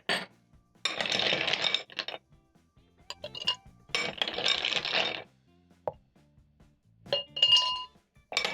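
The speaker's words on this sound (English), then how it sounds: "Add in 2 teaspoons of your syrup, ice cubes," Ice cubes tumble into a glass for a non-alcoholic lime and beet mojito, making several bursts of bright clinking and rattling separated by short silences.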